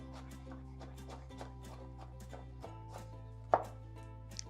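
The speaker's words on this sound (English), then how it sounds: "We're going to give it a rough chop." A knife roughly chopping cauliflower on a cutting board, steady rapid taps in a quick rhythm close up, with one sharper knock near the end.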